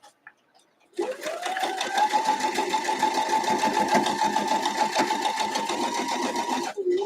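A sewing machine runs steadily for about six seconds stitching a quilt block seam, a loud close whirring with a rapid needle rhythm that starts abruptly and stops near the end, with brief light noises before it.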